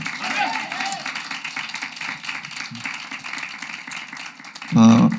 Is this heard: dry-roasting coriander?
no